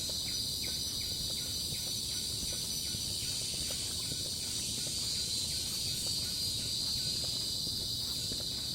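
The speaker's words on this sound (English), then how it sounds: "Hear the birds sound" Forest on Bukit Timah Hill in Singapore hums with a dense, steady shrill of insects high above a soft bed of birdcalls, with faint footsteps and rustle moving along a trail.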